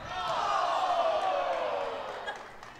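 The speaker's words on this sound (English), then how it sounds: "we heard the crowd did not like that call" At a high school girls basketball game, the crowd reacts to a foul call with a loud, sustained roar of voices that swells and then slowly fades.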